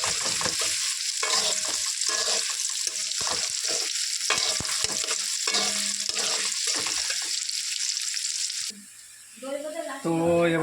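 Chicken for biryani sizzles and fries in a pan with onions while being stirred, a dense steady hiss broken by scraping stir strokes, then quieting briefly before bubbling frying resumes close up.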